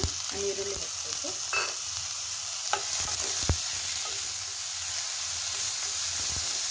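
A chopped large onion fries on high flame in a pan, giving off a loud, steady sizzle and hiss. A utensil stirs and scrapes through it with a few sharp clanks.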